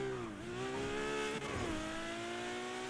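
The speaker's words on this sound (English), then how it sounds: "Man, this car sounds so good" Car engine in a video game, a continuous close rev that dips briefly, climbs and holds a strong steady tone, with a short tire squeal mid-way and no talking.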